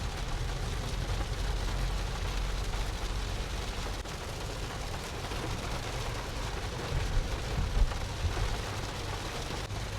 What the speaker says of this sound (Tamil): அந்த அளவுக்கு சரியான மழை பெஞ்சிட்டு இருக்கு.